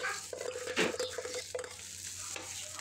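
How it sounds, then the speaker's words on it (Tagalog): Rice is stirred and scraped in a pan with sautéed garlic, a close, steady sizzle running under the scraping strokes without any talk. "Diyan, halo-haluin lang natin ng matindi"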